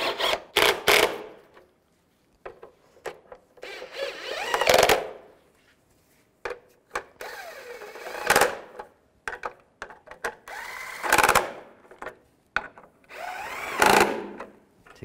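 A power tool whirs in repeated short bursts, loud and close, while bolts are snugged down during a turbocharger replacement on a 2007-2013 Mini Cooper S, with ratchet-like clicks and brief pauses between runs.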